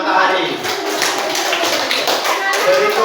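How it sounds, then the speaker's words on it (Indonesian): A school class claps for a group of students, a dense patter of many hands close by, steady and unbroken, with faint children's voices mixed in. "Tepukkan untuk kelompok matahari"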